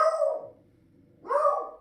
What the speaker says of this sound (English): if my dogs will shut up for a minute